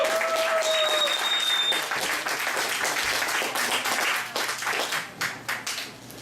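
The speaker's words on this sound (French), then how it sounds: "mérite une bonne applaudissement." Audience applause rings out at a poetry evening for an honoured guest. It is loud and thick with many hands, thins toward the end as individual claps become distinct, and a few voices are audible underneath.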